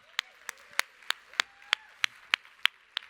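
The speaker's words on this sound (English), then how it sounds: "Give a big round of applause." Steady, evenly spaced claps ring out at a live evening entertainment show, about ten sharp hand claps in a brisk rhythm, close and distinct rather than a dense crowd roar.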